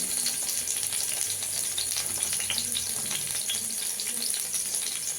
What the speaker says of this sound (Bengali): আমি প্যান বসিয়ে দিয়েছি তেল দিয়ে দিয়েছি এবার বেগুনগুলোকে দিয়ে দেব